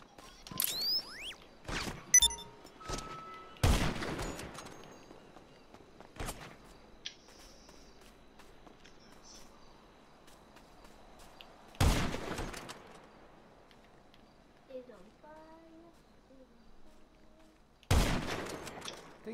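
Gunfire with incendiary rounds in GTA V Online: a few sharp, loud single shots spaced seconds apart, with quieter mechanical clicks and faint movement noise in between and no talk.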